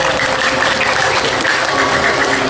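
A crowd applauds at a Balinese drama gong performance, a dense, loud and unbroken roar of clapping that holds at the same level for the whole stretch.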